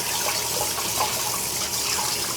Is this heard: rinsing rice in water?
yes